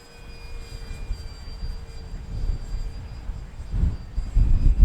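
A HobbyKing Hawker Tempest RC model plane flies on a turbulent day, a thin electric motor whine holding steady under gusty wind rumble that grows louder toward the end.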